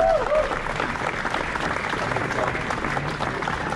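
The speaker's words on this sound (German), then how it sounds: "Diesen Applaus" A crowd at the Retro Classics 2020 car show applauds a product world premiere, with dense, sustained clapping and some crowd noise, and a voice briefly audible at the start.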